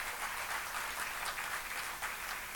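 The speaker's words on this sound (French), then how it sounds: "je dois mériter même l'applaudissement" Audience at a political conference in Quebec applauding, steady dense clapping at moderate distance for a few seconds without talk.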